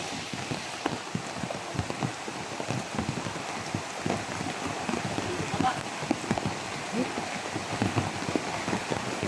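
Steady rain falls across the whole stretch, with dense patter and drips on surfaces close by, alongside a few faint voices in the background.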